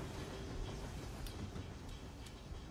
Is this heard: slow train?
yes